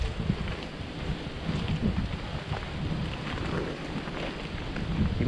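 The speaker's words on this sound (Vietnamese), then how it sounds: "Xuống lẹ lẹ cả nhà, mưa tới rồi." Rain and thunder arrive over a forest as a dense, steady wash of rainfall mixed with gusting wind and low rumbling, with no voices.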